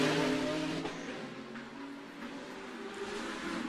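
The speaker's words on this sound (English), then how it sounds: "Hear the tyres squealing." GT Cup race cars in the Macau Grand Prix on the street circuit, tyres squealing through a corner over the roar of engines, heard at a moderate distance in a brief burst.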